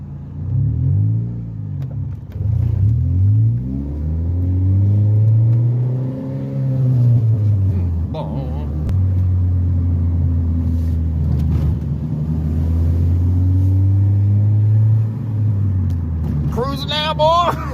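A car with a manual transmission drives and accelerates through its gears, its engine drone rising and falling in sweeping pitch runs, with someone talking over the steady rumble.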